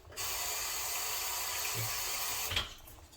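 Water pours from a jar into a cooking pot of spaghetti sauce on medium heat, a steady close splashing trickle for a few seconds that ends with a brief clink.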